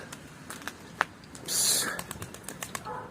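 A sudden burst of pigeons' wings flapping as they take off, a short loud whir after a few scattered light taps and clicks.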